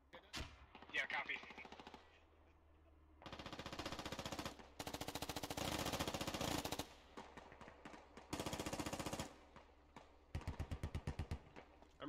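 M240 machine gun in the video game Squad fires several long sustained bursts and a final choppy burst, loud and close, separated by quieter gaps with faint background noise.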